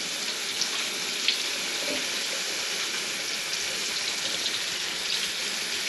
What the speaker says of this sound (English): Run them through some cold water.